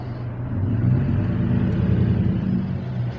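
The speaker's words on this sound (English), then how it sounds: "it's a Harley Davidson pickup truck" A Harley Davidson pickup truck drives by, a steady deep engine rumble that is loud and close and holds fairly even across the whole stretch.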